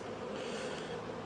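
Steady, dense buzzing of honeybees in a hive box fitted with medium frames, continuous and fairly loud with no talk over it.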